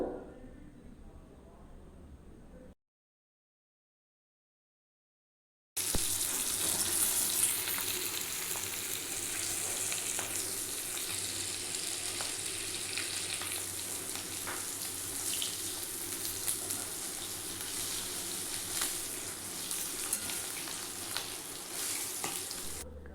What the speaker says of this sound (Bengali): কড়াইয়ে সর্ষের তেল নিয়ে ইলিশ মাছের মাথাটা আগে ভেজে নেব।